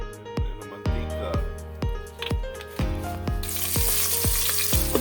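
Sliced onions frying in oil for chicken biryani, a broad hiss that rises clearly near the end beneath loud, rhythmic background music with regular percussive hits.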